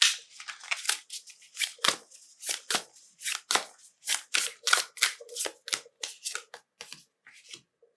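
Close, crisp tarot card shuffling in a steady rhythm of sharp riffles and slaps, repeated many times with no talking.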